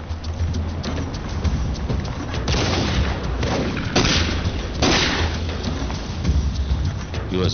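Gunfire in an action film scene, rapid bursts of shots crackling in clusters over a dense, noisy background, loud and sustained throughout.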